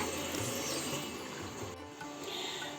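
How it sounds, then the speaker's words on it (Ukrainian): Continuous running water rushes and sloshes as pearl barley is rinsed under a flowing stream, steady and moderately loud. "а крупу зараз будемо гарно промивати"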